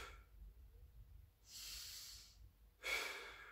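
Slow, deep breaths taken during a Pilates knee-to-chest stretch, two soft airy exhales standing out against a quiet room, the second slightly louder and sharper.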